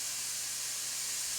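Food sizzling in a pan over medium heat for beef bourguignon, a steady, fairly quiet hiss of frying with no voices.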